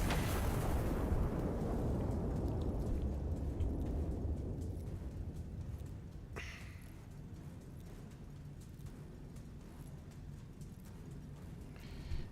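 A heavy artillery gun fires in Iron Nest, a loud booming blast at the start whose rumble decays slowly over several seconds, followed by quieter mechanical clicks and a faint later pop.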